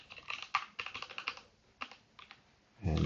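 Code being typed on a computer keyboard, a close run of crisp rapid keystrokes that thins into a few scattered taps before a low thump at the end, no talking.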